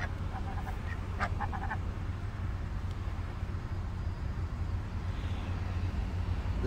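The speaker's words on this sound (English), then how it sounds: "We're at Wendy's right now, and these ducks are just begging for food, man." Several short nasal honks and quacks from ducks begging for food nearby at a Wendy's, clustered early, over a steady low engine rumble.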